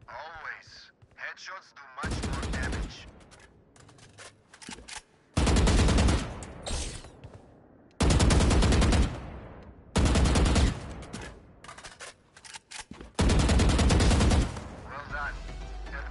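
Gunfire in Valorant aimed at strafing training bots: several loud, dense bursts of rapid shots in separate volleys, with pauses between, over a quieter background with voices.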